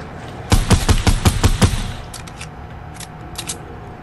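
Gunfire in Fortnite Battle Royale: a quick burst of about seven loud, evenly spaced shots, followed by a few fainter scattered shots at a distance.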